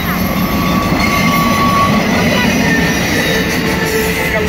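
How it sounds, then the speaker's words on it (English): Norfolk Southern 9423 freight train rushing past a railroad crossing in southeast Tennessee, a loud, steady broadband roar of wheels and cars filling the whole stretch, with faint wheel squeal over it. "that train was going fast"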